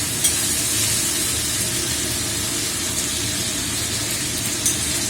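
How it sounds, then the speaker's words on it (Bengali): Boiled mutton frying in hot oil for sarso mutton, giving a loud, dense and continuous sizzle with a bright hiss close by, steady throughout and with no talking. "এবারে আমি বয়েল করা মটন দিয়ে দেব।"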